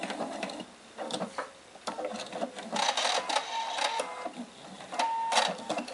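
A sewing machine stitches fabric for a small quilted bowl holder in quick, uneven bursts of mechanical rattling, with short pauses between runs, close and moderately loud.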